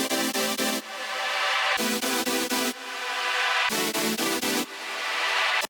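Layered future bass supersaw chords from Serum sound together: dense, bright synth stabs alternating with longer swelling sustained chords in a steady pumping pattern, loud with no voices.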